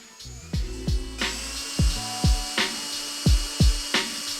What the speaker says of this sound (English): I made sure to use a Sharpie to mark the holes of where I was going to drill on the fiberglass bumper